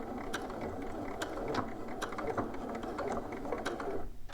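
Sewing machine back stitching at the end of an edge seam on shorts, a rapid mechanical clatter with regular ticking needle strokes, close and steady, without talk.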